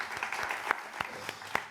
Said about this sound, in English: maybe a special round of applause for Rihanna